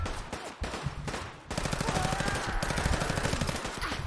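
Legendary assault rifle in Fallout 4 firing sustained automatic bursts at a heavily armored super mutant, rapid dense gunfire continuing loud and steady for several seconds with a brief break near the start.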